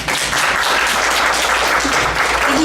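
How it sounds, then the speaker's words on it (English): Audience applause at a middle school orchestra film night, a loud, dense and steady burst of clapping filling the room for a few seconds. "Let's give a round of applause."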